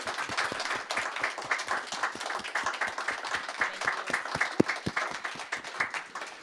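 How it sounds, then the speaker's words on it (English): An audience at a talk on conserving a Nevelson chapel panel applauds, with steady, dense clapping that holds at a moderate level throughout and no speech over it. "We give them a round of applause"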